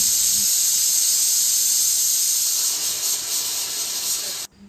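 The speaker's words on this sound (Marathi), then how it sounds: "कुकरचे झाकण लावून त्याच्या 2 शिट्ट्या करून घेऊया" A pressure cooker holding dal, with moong dal as an option, whistles as it releases steam: one loud, continuous high hiss held for several seconds before it cuts off abruptly.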